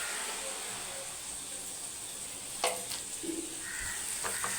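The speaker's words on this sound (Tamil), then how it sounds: "பாருங்க, வெங்காயம், பச்சை மிளகாய், இஞ்சி பூண்டு பேஸ்ட்டு எல்லாம் போட்டாச்சு, வதங்கிச்சு" Onions, green chilies and ginger-garlic paste sautéing in a pan for mutton liver, giving a steady faint sizzle and hiss throughout with a few brief stirring scrapes, no voices.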